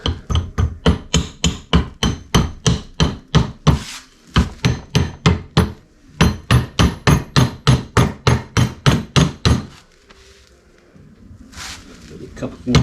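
A dead blow hammer strikes part of an LB7 Duramax turbo in a fast, steady series of loud, close whacks. There are short breaks partway through, and the blows stop near the end, leaving quieter handling noise.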